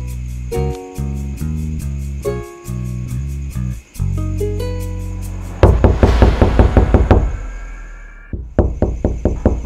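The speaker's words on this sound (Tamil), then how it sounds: "மானஸ் கதவு திறக்க இவ்வளோ நேரமா?" Repeated knocking on a door comes in quick clustered raps, loud and close, over a sustained tonal musical background that shifts partway through.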